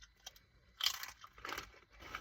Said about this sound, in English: We've got the crunch in the mouth.